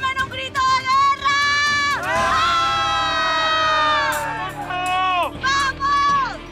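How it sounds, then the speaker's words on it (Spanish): A team of competitors in a Desafío territorial challenge lets out a war cry, a loud collective yell that swells into one long, sustained roar before breaking into scattered shouts. "¡Dame un grito de guerra!"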